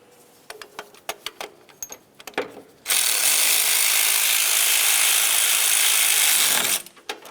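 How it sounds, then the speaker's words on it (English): Ratchet clicks on AC compressor mounting bolts on a 2006-2011 Honda Civic: a run of sharp separate clicks, then a loud steady whirring buzz of several seconds that stops abruptly, with no voices. "Now let's tighten the lower bolt and then the upper."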